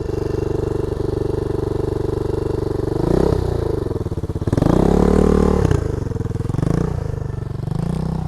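A dirtbike idles along slowly in first gear, its steady, throbbing engine close and loud, with the revs swelling and dipping a few times as the throttle is eased on and off.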